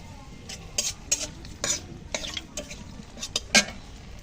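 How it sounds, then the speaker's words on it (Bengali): Dried red chillies and bay leaf sizzle in hot oil for a steamed fish dish with pumpkin greens. There is a steady frying hiss with repeated clinks and scrapes of a spoon stirring in the pan, close up and with no talking. "তো তেল তো গরম হয়ে গেছে, ফোড়নে দিয়ে দিচ্ছি শুকনো লঙ্কা,"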